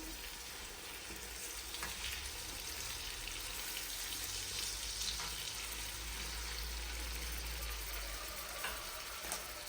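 Tomatoes cooking gently in butter in a pan over low heat, a steady, even sizzle and crackle with faint stirring, close by and continuous for the whole stretch, no voices.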